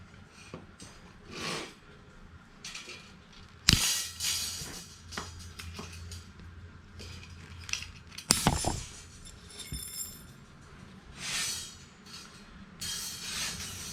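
Metal sign stakes are snipped apart with a cutting tool: a few sharp, loud clicks and snaps stand out over quiet rattling and light metallic clinks, with long gaps in between.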